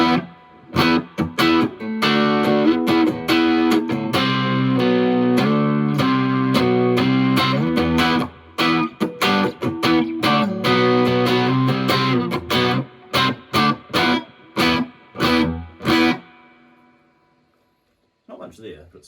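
An electric guitar played through a small India-built Tiny Marshall JMP amp with the reverb at half, punchy distorted chords and riffs in bursts with short gaps, a faint voice at the end.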